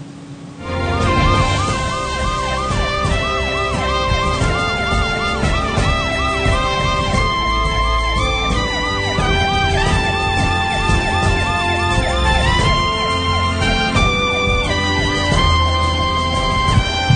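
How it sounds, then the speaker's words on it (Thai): An emergency ambulance siren wails continuously and loudly with a repeating rising-falling pattern over traffic noise, heard on a road trip from Nong Khai to Chulalongkorn Hospital in Bangkok while transporting a seven-month-old infant for heart surgery. "เจอรถพยาบาลรถฉุกเฉินน่ะแล้วเขาเปิดไซเรนเปิดหวออ่ะ"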